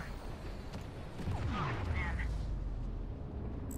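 Missiles and rockets fire in the space combat game Fractured Space, rumbling booms and a rising whoosh swelling over a dense low roar, with a voice talking faintly underneath.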